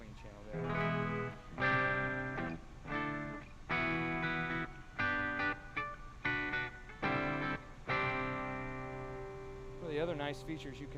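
Guitar phrases ring out in short bursts with sustained notes, heavily colored by effects and a wash of reverb, pausing between strums.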